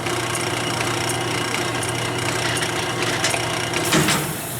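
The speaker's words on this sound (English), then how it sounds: "So I'll hit the auto cycle. You can kind of see it stroking." A Sunnen MBC-1802D horizontal honing machine runs in auto cycle, its stroker unit producing a steady mechanical hum with a faint rhythmic churn and a brief clunk near the end.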